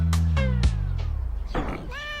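Several cats meow close by in quick succession, about half a dozen drawn-out cries. Some of the meows overlap or run together, with short gaps between them.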